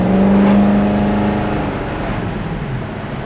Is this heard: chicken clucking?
no